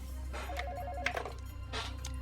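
A telephone rings on an outgoing call to an ambulance service, a short repeated electronic ring tone heard over a low steady hum, with a couple of faint clicks.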